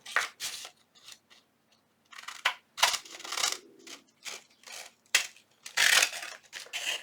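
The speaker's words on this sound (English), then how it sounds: "So I'm just going to trim around my template." Scissors snipping paper while trimming around a template for a junk journal tag, a series of crisp close cuts in short bursts with brief pauses between them.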